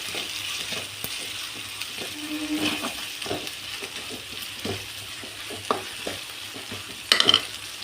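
Onions sauté in oil in a pan for egg curry: a steady soft sizzle with intermittent stirring scrapes and a few clinks, close and moderately quiet.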